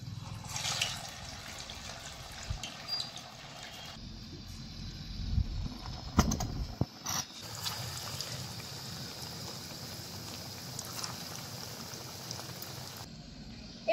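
Sabudana pakoras go into lightly heated white oil in a kadai and give off a soft, faint sizzle and bubbling, with a few clinks partway through.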